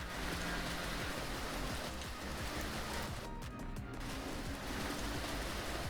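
Steady rain weather in the BeamNG driving game, a dense, even hiss of falling drops that continues throughout, briefly thinning in the middle, with no voices.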